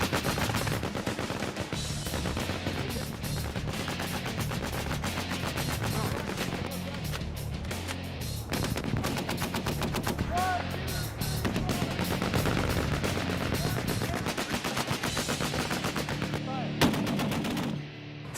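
Machine guns firing armor-piercing incendiary rounds at reinforced steel target hulks hundreds of yards away during a Marine live-fire exercise, dense continuous bursts of rapid gunfire throughout.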